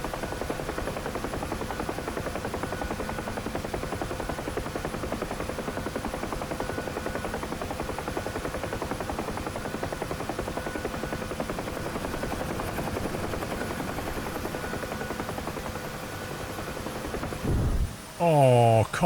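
A helicopter in DCS World thrums with loud, steady rotor noise for most of the stretch, then breaks into erratic crashing and clattering near the end.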